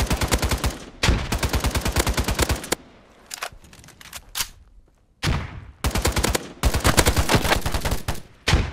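Rapid automatic gunfire in the shooter game Polygon, loud, close bursts of evenly spaced shots separated by short pauses with a quieter rattle of distant shots between them.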